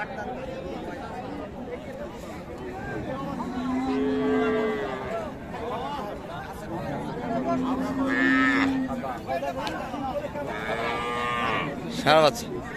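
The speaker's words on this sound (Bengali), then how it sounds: "গাভি সাদা পুরোটাই, এটাই কিন্তু গাভি" Cows moo repeatedly at a busy cattle market in Raniganj, with several long, deep calls rising over a steady crowd murmur and nearby people talking.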